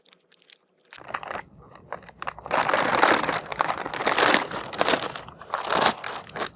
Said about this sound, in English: Now I'm going to open the zip lock here.